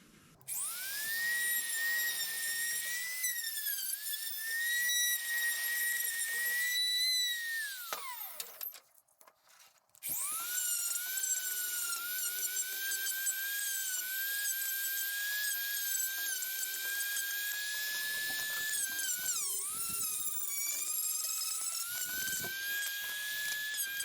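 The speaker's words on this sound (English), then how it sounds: "What I'm going to use this time is the Dremel tool." A Dremel rotary tool grinds on a pistol grip, a high whining buzz that holds steady, dips and stops briefly midway, then resumes with small pitch wobbles as the bit bears on the material.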